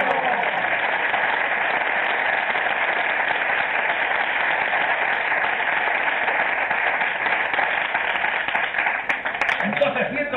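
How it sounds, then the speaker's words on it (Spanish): A church congregation applauding during a sermon, a sustained, even roar of clapping that holds at a steady level throughout, with a little bit of voice and noise surfacing near the end. "Un aplauso a tu Señor."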